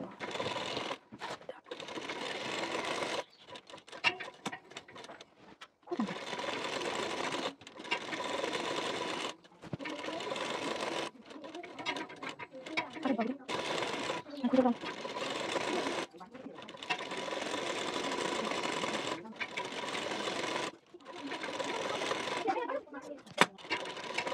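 Sewing machine stitching a neck strip onto a blouse, fast mechanical whirring bursts that start and stop repeatedly in short runs, close and clear, with occasional clicks between them.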